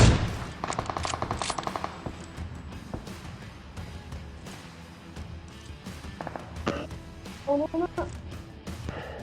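Gunfire in PUBG Mobile, a rapid automatic burst followed by scattered single shots and footsteps, with someone talking over parts of it.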